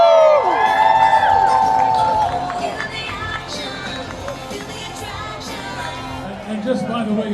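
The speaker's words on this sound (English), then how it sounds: "For all of you in the grandstands, give yourself a round of applause." Grandstand crowd at the Boston Marathon finish line roaring with cheers, whoops and shouts, loud at first and easing into a sustained murmur of applause, with an announcer's voice mixed in.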